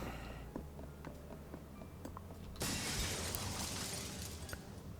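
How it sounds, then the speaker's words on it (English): In the video game The Sexy Brutale, glass smashes in one sudden bright crash that spills into a sustained shimmering hiss of falling shards, following a few soft ticks over a low background hum. "Smashed glass."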